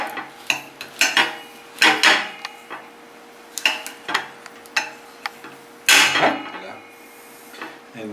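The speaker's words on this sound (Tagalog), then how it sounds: "hiwain natin siya sa gitna" A knife taps and cuts through fruit on a board in a series of sharp, close clicks and knocks, loud against a quiet room, with no one talking.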